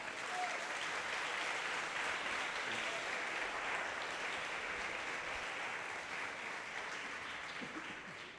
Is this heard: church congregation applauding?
yes